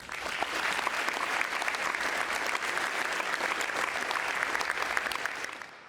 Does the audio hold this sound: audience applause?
yes